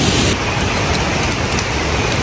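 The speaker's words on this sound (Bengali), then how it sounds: "বৃষ্টি হচ্ছে খুব" Heavy rain pouring down in a hillside jungle, a dense, loud, steady hiss of drops on foliage and ground filling the whole moment without pause.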